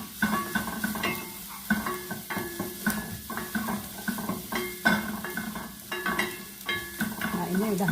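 Garlic fries in a pan, a close sizzle broken up by repeated scraping and clinking from stirring, the bursts coming in uneven rhythm with no talk over them.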